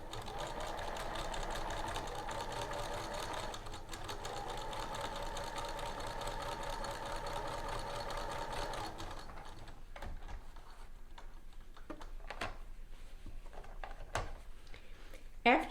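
A domestic sewing machine stitches a dress seam in a fast, even mechanical whir for about nine seconds, then stops, leaving soft handling clicks and rustles of fabric.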